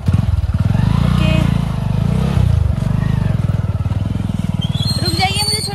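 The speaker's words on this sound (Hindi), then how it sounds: "मैं बाइक बैठूंगी और चलूंगी" A motorcycle engine rumbles loud and close throughout a ride, with a steady throbbing beat, a brief swell in revs midway and the rattle of the bike beneath, while voices talk over it.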